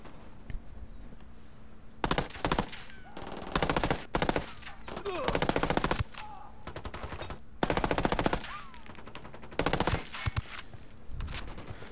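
Gunfire in the video game Ghost Recon Wildlands, with repeated loud bursts of automatic fire broken by short pauses and a few single shots, over a quieter background.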